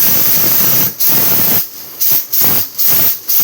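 Hot oil hisses and sizzles in bursts as green and red chilies go in, with several brief pauses as the crackling spray cuts in and out.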